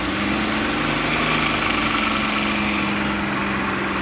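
A transmission test machine runs a 727 valve body fitted to a 46RE transmission, giving a steady, close mechanical hum and drone with a constant idling-engine character and even vibration throughout, no talking.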